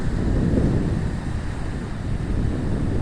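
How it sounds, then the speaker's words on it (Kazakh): Waves breaking on the Caspian Sea shore in winter, heard as a steady, close roar of surf mixed with wind buffeting the microphone, with no voices. "Толқын бар."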